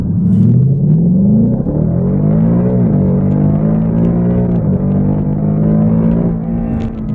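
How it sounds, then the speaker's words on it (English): A 2018 Ford Mustang 5.0 V8 with the 10-speed automatic, in track mode, revs loudly and drops through gears on its own under hard braking, each downshift bringing a rising engine blip over a steady close rumble. "Ooh, that downshift. That downshift, that's all on its own."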